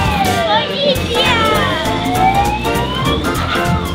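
A police siren sounds at an amusement park, with rising and falling wailing tones continuing throughout, loud and close, while children talk and shout over it.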